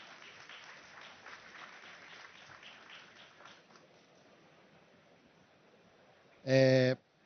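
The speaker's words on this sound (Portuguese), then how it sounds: "Uma salva de palmas para o Bruno." Conference audience at FEBRABAN TECH 2024 applauding a speaker as he is called to the stage, a soft, fairly distant clapping that fades out after a few seconds, followed near the end by a short, loud burst of another sound.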